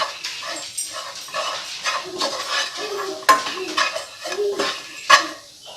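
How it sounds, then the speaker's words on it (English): Chana masala ingredients sautéing in a pan, with clinking utensil-on-pan scrapes and stirring knocks in an irregular rhythm over a light sizzle, heard close with no talking. "we need to saute these for 1 to 2 minutes"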